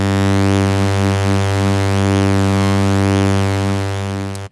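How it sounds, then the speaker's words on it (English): A steady sine-wave tone in Ableton Live run through a flanger-style spin mode, a loud, continuous sustained tone with slowly sweeping, swirling upper partials that rise and fall in repeating waves, ending abruptly. "This tries to emulate spinning around your head."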